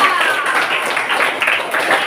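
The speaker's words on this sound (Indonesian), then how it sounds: "Beri tepuk tangan dulu dong" A classroom of students claps in praise of a classmate, a dense, steady patter of many hands sustained throughout at moderate loudness.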